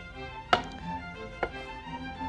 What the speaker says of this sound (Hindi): इन टमाटर को हम काटेंगे, ना ज़्यादा छोटा ना ज़्यादा बड़ा